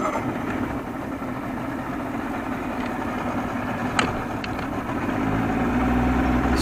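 A 1987 Johnson 70 hp outboard engine runs steadily at a low idle with a continuous rumble, its sound thickening toward the end as it strains under load.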